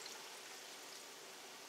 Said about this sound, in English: I'm going to pour this in right now.